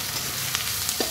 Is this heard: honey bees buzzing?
no